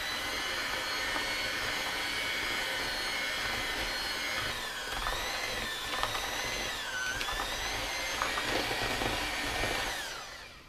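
Peanut butter cookie dough is blended with flour by an electric mixer, a continuous close motor whir with shifting pitch as the beaters labor through the thick dough, then spinning down at the end.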